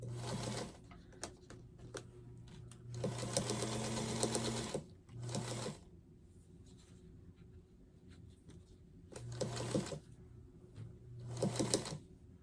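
A sewing machine stitches a Christmas quilt in several quick whirring bursts of different lengths, with quiet pauses between them.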